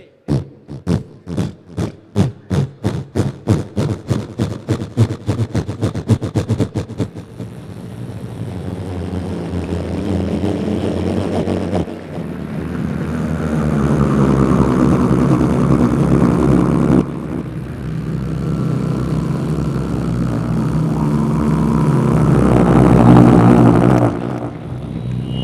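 A man imitates a helicopter with his voice on stage: rapid rhythmic chopping pulses that speed up, then blur into a loud, sustained whooshing roar that swells and fades, like a helicopter passing close by.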